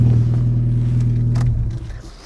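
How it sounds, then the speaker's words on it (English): A John Cooper Works Mini idles with a steady low hum, close by. The engine then cuts off and winds down to quiet. "And here, I'll turn the motor off."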